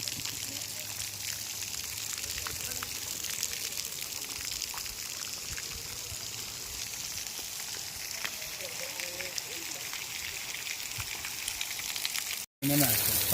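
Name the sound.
automatic garden fountain water flowing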